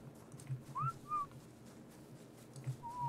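A whistle command in the video game Ark Survival, short rising and falling whistled tones, faint against a low steady background hum.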